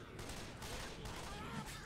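Dense, sustained gunfire in the zombie shooter Left 4 Dead 2, a continuous wash of rapid shots and clatter at moderate level with muffled game noise blended in.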